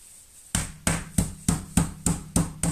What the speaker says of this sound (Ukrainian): Відбиваємо м'ясо.